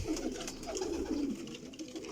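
A pigeon coos softly close by, with a low, rolling call repeated over a couple of seconds against quiet background noise.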